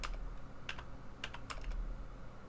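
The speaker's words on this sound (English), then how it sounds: "Should probably stop pressing keys." Rapid keystrokes on a computer keyboard during network lab configuration work, arriving in quick irregular bursts of clicks close to the mic over a low steady hum, with no talking.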